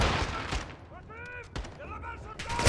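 A few sharp gunshots in Call of Duty: Modern Warfare II crack out close together amid in-game voices and radio-like chatter, the shots loud and brief with fast echoes.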